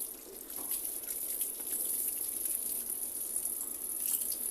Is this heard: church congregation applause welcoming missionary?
no